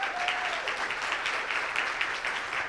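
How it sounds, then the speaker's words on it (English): An audience at a training talk on engagement campaigns gives a steady, continuous round of applause, moderately loud and even, with no talking over it. "one more round of applause"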